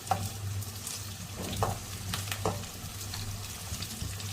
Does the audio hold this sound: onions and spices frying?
yes